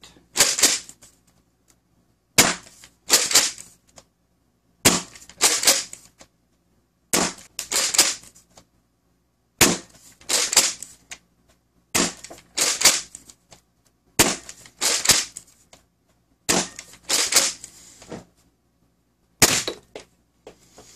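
Nerf Pro Torrent blaster shooting blue ghost foam darts, nine sharp mechanical bursts spaced about every two and a half seconds, each a loud close snap with a brief rattling tail, and no talking between shots.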